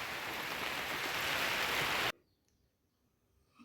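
Rain falls in a forest near a hut, a dense steady hiss that cuts off abruptly after about two seconds, leaving near silence.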